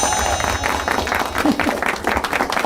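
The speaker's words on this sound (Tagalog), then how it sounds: "Palakpak!" A seminar audience breaks into applause, a dense steady patter of many hands that holds throughout with crowd noise mixed in.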